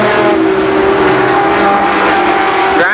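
Race cars roar around the oval at Columbus Motor Speedway in a 1990 Labor Day race, engines droning loud and steady with a rising whine near the end, under faint commentary.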